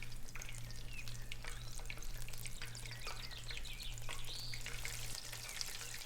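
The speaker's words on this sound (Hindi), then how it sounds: "ऑयल गर्म हो गया है। अब हम एक एक करके क्रॉकेट्स शामिल करेंगे और लाइट गोल्डन ब्राउन होने तक इनको पका लेंगे।" Chicken and potato croquettes deep-fry in hot oil with a continuous bubbling sizzle and crackle. It is soft and close, with a low steady hum underneath and no voices.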